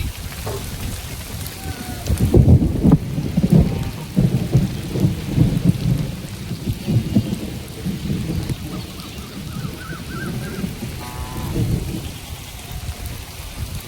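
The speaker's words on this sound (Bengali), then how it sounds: "এদিকে দেখো বৃষ্টি আসছে" Steady rain falls with low rumbling thunder rolling through, loudest early on, and distant booms continuing beneath the patter.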